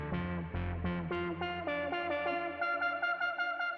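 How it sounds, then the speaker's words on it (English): A bright, buzzy synth tone plays a descending run of notes whose pitch wobbles and bends, a warbling vibrato over a deep bass hum. "It's just like the pitch fluctuating and modulating over time"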